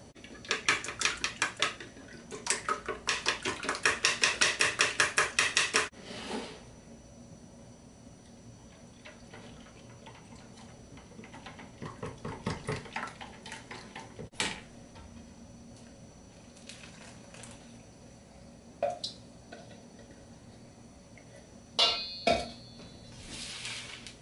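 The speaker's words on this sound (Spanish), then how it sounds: "Ahora voy a batir los huevos y mezclarlo con la leche." A whisk or utensil clatters rapidly against a bowl as eggs are beaten and mixed with milk for bread dough, a fast steady tapping for several seconds, then sparse knocks and clinks.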